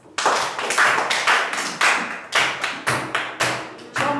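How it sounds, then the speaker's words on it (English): Children clap their hands in a quick series of sharp, close claps, roughly a dozen in a loose uneven rhythm with short pauses between bursts, heard alone without talk. "Clap your hands."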